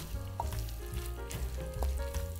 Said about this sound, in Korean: 이렇게 불고기를 젓가락으로 볶으면 하나도 안 깨져요